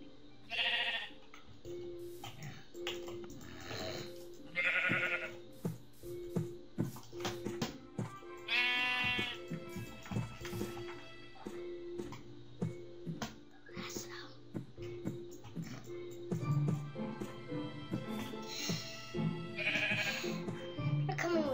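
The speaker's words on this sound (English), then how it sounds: "You're coming with me, sheep." Sheep in Minecraft give several short, nasal bleats spread through the clip, fairly quiet and close, mixed in with soft whispering and game background sounds.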